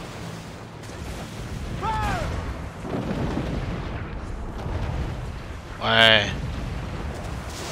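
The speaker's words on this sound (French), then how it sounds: "Beaucoup de damage avec le mortier." Mortar fire booms in the naval game Assassin's Creed IV Black Flag, with rumbling blasts through the middle and one sharp, loud shot near the end, while a player talks over the action.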